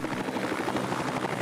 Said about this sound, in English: And that's a helicopter going by.